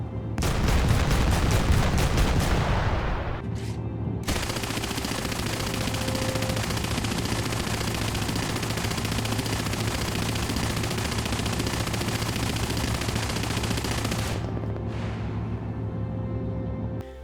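Coaxial 7.92mm MG34 machine gun on a Pz.Kpfw. II Ausf. C tank in War Thunder fires a loud, rapid burst at close range, followed by a steady, dense roar of sustained noise.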